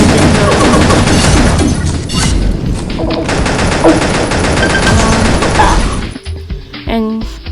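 Rapid combat rifle fire in the Pixel Gun shooter game, dense sustained bursts of loud gunshots with booming impacts, pausing briefly near the end before a final short volley.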